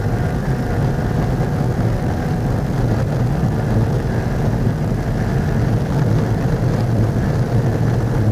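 Ducati 916 motorcycle engine heard on-board at the 1995 Isle of Man TT, a steady loud low-pitched drone held at low revs throughout with continuous wind and road roar and no clear gear changes.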